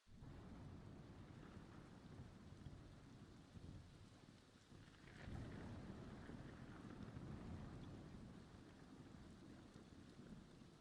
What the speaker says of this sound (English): I was just listening to the rain and thunder and stuff.